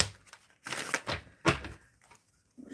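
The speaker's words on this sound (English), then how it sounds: "Shuffling for Jasmine." Tarot cards shuffled by hand in a couple of bursts, quick papery riffling and slapping with short pauses in between, close and moderately loud.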